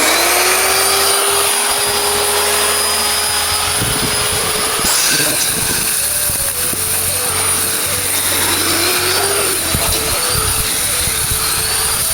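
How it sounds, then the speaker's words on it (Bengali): A core cutting machine drills a 5-inch core with a loud, continuous motor roar and grinding. The drone holds steady throughout and shifts slightly in pitch partway through. "নেওয়ার পরে এই যে মেশিন চালাচ্ছি।"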